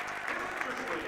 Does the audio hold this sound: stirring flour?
no